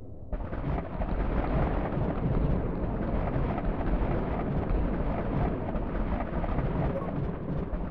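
A lightning storm in the video game Solar Smash fills the space with a dense, loud, continuous rumble like rolling thunder, sustained without a break from start to finish.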